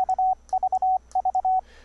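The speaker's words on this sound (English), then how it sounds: "let's demonstrate this real quick for Morse Code over the Internet." Morse code sent with paddles and routed through Voicemeeter software, a clean steady sidetone keying out crisp dots and longer dashes in three short groups, close and alone.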